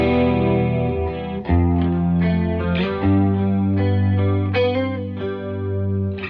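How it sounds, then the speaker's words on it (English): Sustained guitar chords wash through a micro pitch pedal set for chorus, shimmering and doubled, with a few chord changes ringing out alone and close. "I use the micro pitch for my favorite chorus sound"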